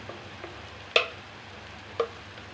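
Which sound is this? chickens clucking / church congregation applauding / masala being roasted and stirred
masala being roasted and stirred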